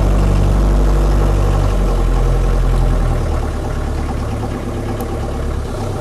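A Land Rover Series III 88-inch diesel truck cab engine runs steadily close by, a heavy low rumble that eases slightly after a few seconds with no talking.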